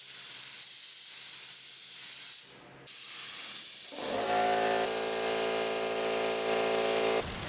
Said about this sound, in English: So I can spray some primer on this.